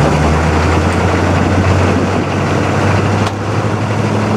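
A vehicle called Moose drives along with its engine droning loud and steady, a heavy low rumble under a broad wash of road noise, easing off slightly near the end.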